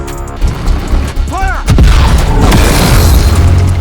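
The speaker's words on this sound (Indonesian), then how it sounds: "Peluru ditembakkan, tapi sayangnya hanya menyerempet tubuh Biang Kerok" WW2 tank cannon fires a single deep booming shot, loud and close, with a long rumbling roll afterward, preceded by a brief whistling tone and mechanical noise.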